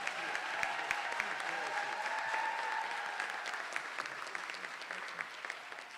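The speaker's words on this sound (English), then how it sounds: "Let's give all our debaters a round of applause." Audience applause for debaters at a debate event, a sustained dense clapping from a crowd that holds steady for several seconds before slowly thinning.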